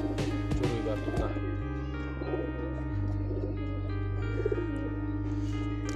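Young Giribaj pigeon chicks coo softly in low, rounded calls over a steady background hum, with a faint voice in the mix.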